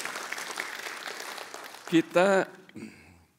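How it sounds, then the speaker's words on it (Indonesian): A church congregation claps during a Sunday worship service, a dense burst that fades over the first couple of seconds before a voice takes over with short tonal phrases. "ya berikan tepuk tangan dulu saudara. Berikan tepuk tangan buat Tuhan."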